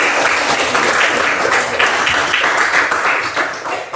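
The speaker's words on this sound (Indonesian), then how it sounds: "kasih dulu tepuk tangan." Classroom children clapping together in a steady, dense burst of hand claps, close and loud for a few seconds before tapering slightly at the end.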